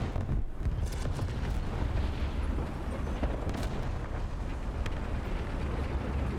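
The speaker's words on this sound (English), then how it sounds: "Are we being shot by artillery?" Continuous heavy rumble of artillery fire and booming impacts in a tank battle video game, a dense roaring wall of low explosions throughout with no clear gaps and no talk.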